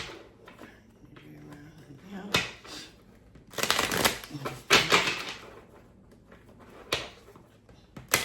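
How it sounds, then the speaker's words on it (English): Tarot cards are shuffled in several quick riffling bursts close by, with brief pauses and soft handling noises between them. "Let's shuffle these cards a little bit more too."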